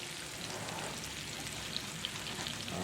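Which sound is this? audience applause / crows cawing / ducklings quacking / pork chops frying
pork chops frying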